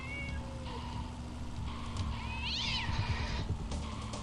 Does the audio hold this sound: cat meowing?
yes